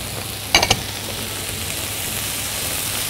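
White and brown portobello mushrooms frying with vegetables in a little oil in a pan, a steady close sizzle broken early by a couple of quick stirring or scraping knocks.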